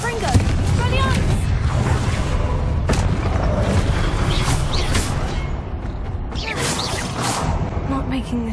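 Confringo blasting spell explosions in the Hogwarts Legacy video game: loud booming bursts with crackling debris and whooshing magic over constant heavy rumble, with a voice occasionally heard in the background.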